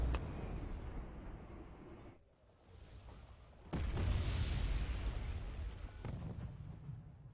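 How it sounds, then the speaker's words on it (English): Artillery fire in the war strategy game Wargame Red Dragon, heard as heavy, rumbling explosion blasts that swell, drop briefly, then return in a louder sustained roar, with no voices over it. "the enemy is also harassing my troops with artillery"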